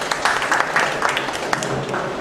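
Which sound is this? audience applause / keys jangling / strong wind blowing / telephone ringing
audience applause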